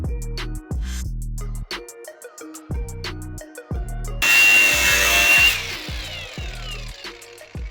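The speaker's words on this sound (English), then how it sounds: "so we're gonna cut this mount off now" A power tool cuts through a Honda DC2 engine mount during a K-series swap, a loud harsh grinding burst lasting about a second in the middle, set against steady rhythmic music throughout.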